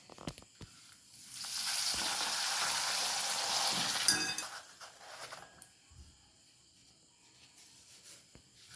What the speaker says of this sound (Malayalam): ആദ്യം നമുക്ക് പപ്പടം കാച്ചിരിക്കാം